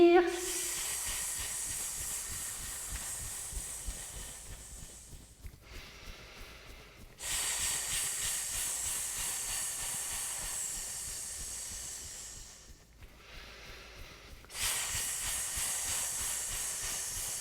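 A person breathing out a long hissing 'S' sound as a qigong healing exercise for the lungs: three sustained, fairly soft hisses of several seconds each, separated by short pauses for inhaling.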